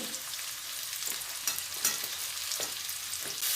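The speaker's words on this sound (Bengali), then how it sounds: "কুমড়োটা অর্ধেক ভাজা হয়েছে এবার দিয়ে দেবো আমি বেগুন" Pumpkin, potato and eggplant sizzle and crackle in hot oil in a pan, a continuous close frying hiss with occasional sharper pops and stirring sounds.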